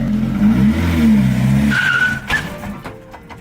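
A Chevrolet S10 pickup's tires spin against the ground during a wheelie attempt, a loud harmonic engine drone and tire scrub for nearly two seconds, then a brief high squeal before the noise fades out.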